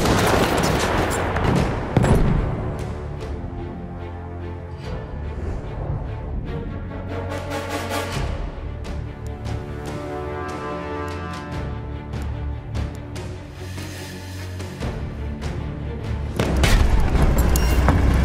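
Rapid gunfire and heavy explosions from a first-person shooter video game on PS4 or Xbox One, loud and dense, with bursts of automatic fire and booming grenade blasts near the start and end.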